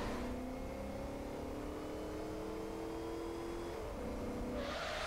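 A car engine in the Saints Row 4 video game hums steadily with a rising whine while driving, holding a continuous drone throughout with a brief dip in pitch near the end.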